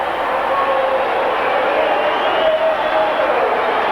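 Rugby league crowd at a Castleford versus Leeds match roaring steadily after a penalty goal from right in front of the posts, a sustained broad wash of cheering voices with no pauses.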